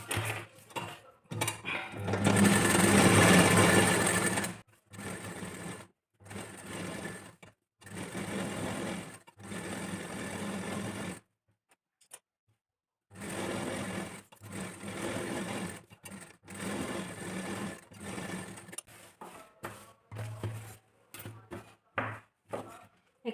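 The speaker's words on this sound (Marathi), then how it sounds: "आता आपला जो ही बॅक पार्ट आपला झाला आहे तो स्टिच करून घ्यायचा आहे" Sewing machine stitching the back part of a blouse, running in repeated bursts of rapid mechanical whirring separated by short silences and small handling clunks, close and loud, with someone speaking at times.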